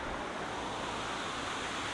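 The River Don flows through Sheffield with a steady, broadband rushing of water that stays even and close throughout, with no voices over it.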